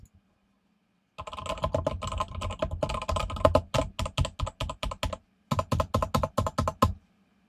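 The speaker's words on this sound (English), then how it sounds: "I think keyboards are pretty satisfying myself." Fast typing on a computer keyboard, a steady stream of crisp clicking keystrokes with one short pause midway, close and clear with no talk.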